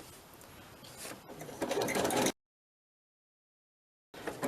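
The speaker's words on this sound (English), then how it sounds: "if you've got a sewing machine with different stitching on, this is a great time to have, you know, have a go" A sewing machine stitches steadily at close range, its whirring growing louder over about two seconds before stopping, then starting again briefly after a silent gap.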